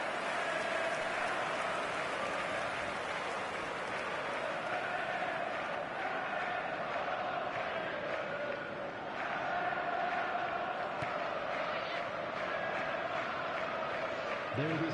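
Stadium crowd noise in the eFootball video game on PS4, a dense, continuous roar of chanting and cheering fans that swells slightly at times, under faint commentary.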